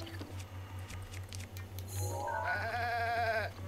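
A white goat in The Legend of Zelda: Breath of the Wild gives a wavering bleat. Before it come soft clicks and pattering over a low steady hum.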